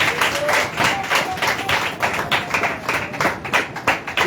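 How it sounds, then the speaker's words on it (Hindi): A church congregation at a Sunday service claps loudly together, a dense, sustained burst of many hands with rhythmic accents running throughout, close and full. "आइए एक जोरदार ताली के द्वारा प्रभु को दास का धन्यवाद दें।"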